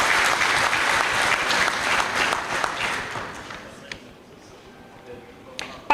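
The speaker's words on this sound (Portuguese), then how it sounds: "aos quais peço uma salva de palmas pela sua presença e" Dense, loud applause from an audience at a tripartite political conference of UNITA, BD and PRA-JA, sustained for several seconds before thinning out and fading to scattered claps.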